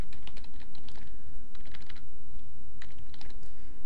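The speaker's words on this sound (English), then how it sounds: "go to Google and type in WisdomSoft" Steady clicking of typing on a computer keyboard, with irregular bursts of keystrokes in a quiet room and no voices.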